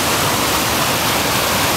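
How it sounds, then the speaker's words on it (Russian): Steady broadband rush of a small waterfall swollen with high spring water, loud and close, with continuous white-noise splashing and no voices. "маленький водопадик, полноводье"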